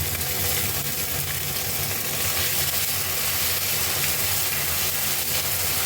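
Ginger paste and radhuni tempering sizzle in hot oil in a pan for bitter dal, producing a loud, close, continuous hiss and crackle with no pauses and no talk.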